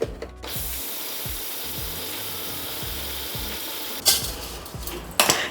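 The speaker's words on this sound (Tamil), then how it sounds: "இப்போ வந்து கடலைப்பருப்பும் உளுத்தப்பருப்பும் சேர்த்து அரைச்சிடலாம்." A mixer grinder runs continuously while grinding dried chili with chana dal and urad dal, a loud, steady motor roar with a rhythmic grinding rattle and two sharp bursts near the end, close up with no talking.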